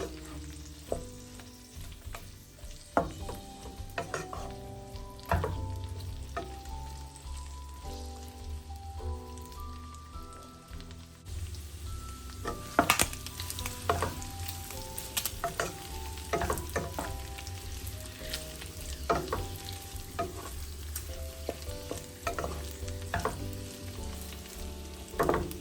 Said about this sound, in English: I'll begin stir frying them so that they don't get burnt